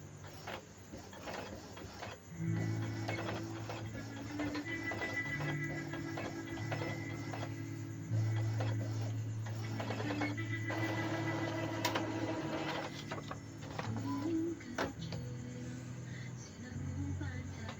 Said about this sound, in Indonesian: kita print dulu nozzle checknya